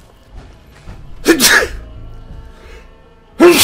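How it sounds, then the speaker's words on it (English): A person sneezes loudly and close, once in the middle and again at the end, with quieter breathing and faint background sound between the two bursts. "Sneezes."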